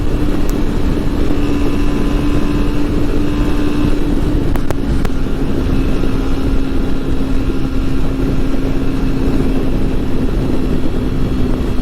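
A Suzuki V-Strom 250 SX motorcycle engine drones at high revs throughout, a continuous mechanical hum with a sustained tone, fairly close and loud, with no talk.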